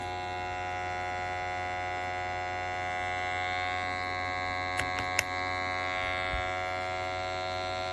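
An electric mason jar vacuum sealer pump runs steadily with a constant motor hum and whine, its pitch shifting slightly midway, broken by a couple of brief clicks, with no voices.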